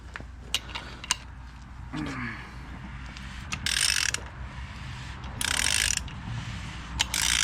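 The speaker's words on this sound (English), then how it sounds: "I'm going to rotate it around a full revolution with the crank bolt" Ratchet turning the crank bolt of an LS4 V8 through a full revolution during a cam and timing set install, close clicking bursts with mechanical rattles and a few sharp knocks.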